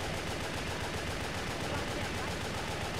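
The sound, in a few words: machine gun firing in the video game Wet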